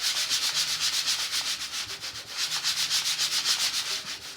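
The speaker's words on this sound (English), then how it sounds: "Okay, and I go over the top. Rub, rub, rub, rub." Arches Aquarelle paper is rubbed by hand onto a gel plate print, a rapid, even series of soft scratchy back-and-forth strokes, close and quiet, with no talking.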